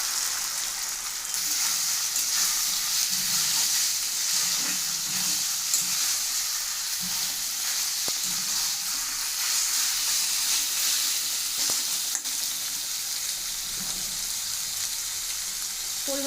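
Meat sizzles in hot oil with ginger, garlic and dried chilli for a Ramadan potato chop, a loud, close, continuous hiss with occasional stirring scrapes and sharp clicks, with no voices.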